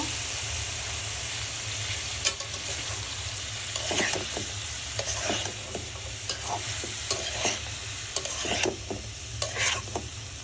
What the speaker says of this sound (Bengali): এভাবে আমি ভালো করে নেড়ে একটু মিশিয়ে নিব